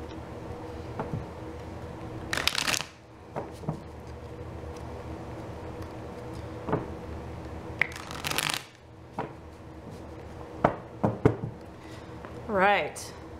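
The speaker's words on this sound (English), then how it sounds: "we're going to do a few more shuffles here and then we will get started" Tarot cards being shuffled by hand: several short, crisp riffling bursts spread over the stretch, with quieter taps and handling sounds between them against a soft room hum.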